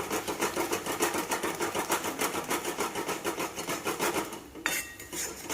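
Four cracked eggs whisked briskly in a bowl for egg bhurji, a fast steady rhythm of utensil scraping and clinking, close and continuous, with a few sharper clinks near the end.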